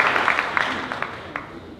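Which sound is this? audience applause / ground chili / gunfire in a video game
audience applause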